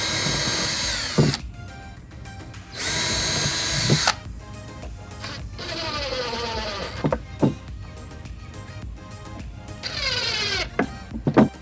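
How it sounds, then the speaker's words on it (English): A power drill bores pilot holes in cedar for an owl house, several close, whining bursts of varying length with short pauses and clicks between them. "I'll drill pilot holes before putting in screws with my impact driver"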